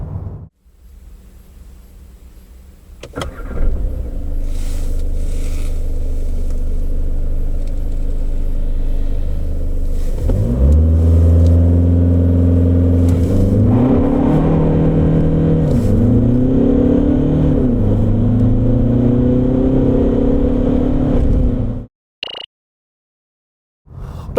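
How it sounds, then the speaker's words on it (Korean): A 2021 Volkswagen Passat GT diesel on winter tires idles, then pulls away hard from inside the cabin. The engine drones up through several rising sweeps separated by gear changes before cutting off abruptly near the end. "파워트레인을 기반으로 한 가속 성능 얼마나 나오는지 볼까요?"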